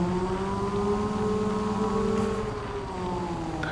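A Lizard Maverick X3 side-by-side in Farming Simulator 22, stock base model with 150 horsepower, holds a steady engine drone with a faint, slow drift in pitch and no talk over it.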